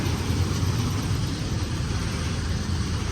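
A tractor engine runs steadily nearby, a constant low, throbbing rumble with no break and no voices.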